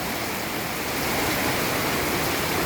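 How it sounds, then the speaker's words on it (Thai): Heavy rain pours down in a steady, dense roar with strong wind, loud and continuous throughout with no pauses. "ฝนตกหนักมาก"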